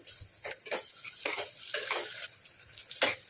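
Onions sizzle and fry in a pan with curry leaves and coriander, stirred with a spoon in several scraping bursts over a steady close hiss.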